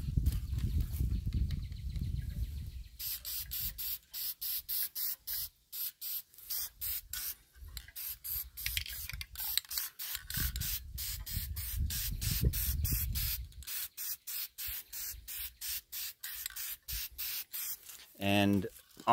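Spray paint hisses from an aerosol can onto a miniature model outdoors on a windy day, in repeated short bursts separated by brief pauses, close to the recorder, with low wind rumble.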